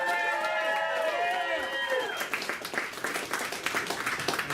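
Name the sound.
audience applause at stand-up show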